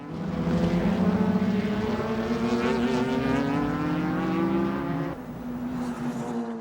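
JGTC GT race cars, among them a Nissan Skyline R33, scream past during a 1997 race, their engine notes climbing in pitch together before one drops off abruptly near the end.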